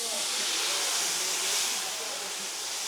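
Spice paste of turmeric, chilli and ginger dropped into hot oil after cumin seeds, giving a loud, continuous broadband hiss of sizzling that holds steady for a few seconds with no talk.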